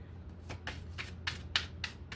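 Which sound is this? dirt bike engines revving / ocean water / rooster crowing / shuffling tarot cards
shuffling tarot cards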